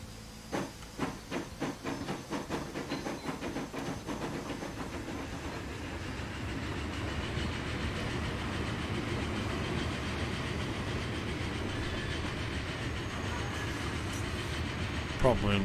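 A train in the Transport Fever 2 video game rolls along with a steady hissing rumble, preceded by a run of rhythmic clacking pulses, sustained and moderately loud throughout.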